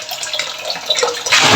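Strong, steady rush of tap water running at home while filling for laundry in a washing machine, a continuous loud splashing flow that swells brighter and harsher toward the end.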